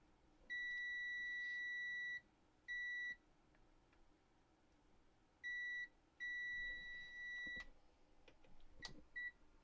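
A multimeter in continuity mode beeping while capacitors are tested during a Sunfire Super Junior amplifier repair: several steady electronic tones of uneven length, separated by gaps, over a quiet bench with faint clicks.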